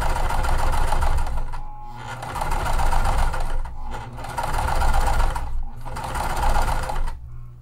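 A sewing machine top-stitches a mesh pool tote, running loud and close in several steady bursts separated by brief pauses, with no talking.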